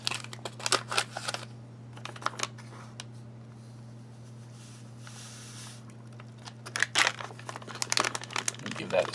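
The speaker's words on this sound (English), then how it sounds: "I just stuck it inside of this vessel so I could open up the beverage powder" An MRE beverage powder packet from a 2006 beef enchilada ration is torn open at its notch, making sharp crinkling and ripping bursts at the start and end, with a steady low hum underneath.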